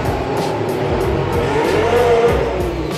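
An Alfa Romeo Formula 1 car at 2019 testing roars past at close range, its engine loud and steady with a rising then falling whine as it goes by.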